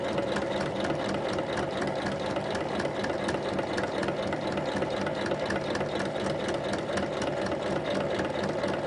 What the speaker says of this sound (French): je vais piquer le long de ma pliure jusqu'en haut de la poche